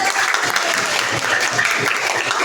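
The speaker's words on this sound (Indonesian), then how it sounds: "Kasih tepuk tangan." A group claps together in steady, dense applause that continues throughout, close and lively, with a few voices faintly mixed in.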